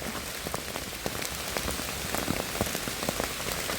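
Steady rain patters on a surface, a dense wash of drops with scattered louder splats, continuous and fairly close throughout.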